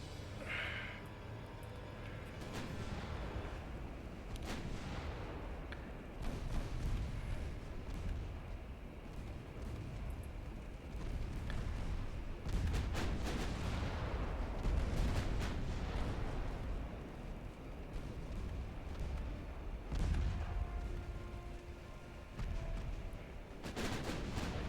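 Warships trade cannon fire in Ultimate Admiral Dreadnoughts, a long stretch of rumbling naval gunfire with repeated heavy booms and bursts over constant battle noise, moderately loud throughout.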